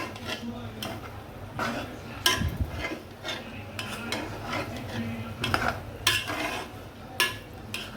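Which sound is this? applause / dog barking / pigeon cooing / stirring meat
stirring meat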